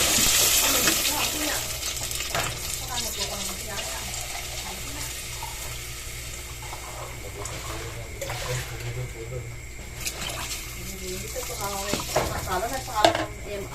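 Water sloshes and pours into a pot of pork sinigang with guavas amid kitchen clatter and stirring, with a steady background hum throughout and a sharper clank near the end.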